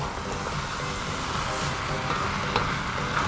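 Tom yum fried rice with tomato and sauce stir-fried in a hot pan, giving a steady close sizzle and crackle. Faint scraping and clinking from stirring come through now and then, with no talking.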